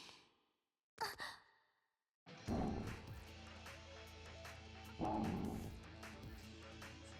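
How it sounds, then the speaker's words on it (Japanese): Dog barks and yips in the video game Onee Chanbara Origin, a short burst near the start followed by a denser run of barking over game music and effects, loud and close. "ずいぶん元気のいいワンちゃんね。"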